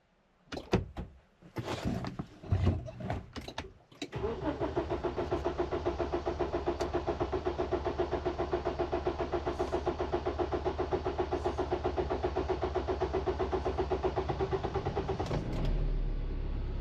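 A JAC T6 pickup with a newly replaced high-pressure fuel pump: a few door and handling thumps, then the starter cranks in a long, steady rhythmic churn close by, and the engine catches near the end.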